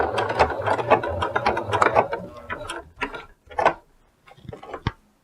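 A sewing machine stitches slowly along the edge of a dress collar in short mechanical bursts, a steady run first and then a few separate pulses, close and clear with no talk.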